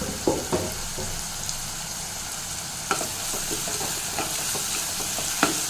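Onions and tomatoes sizzling and sautéing in a hot pan for veg white kurma, a steady hiss with occasional scraping stirs and small pops.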